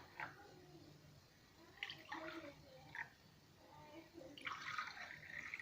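Homemade yogurt milk mixture is poured softly into several cups, producing faint, intermittent liquid splashes and trickles in a quiet room.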